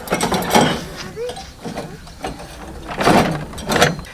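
A bicycle chain is fitted onto a home-built water cycle: loud, close metallic clanks and scraping rattles come in uneven bursts over a dull mechanical rumble.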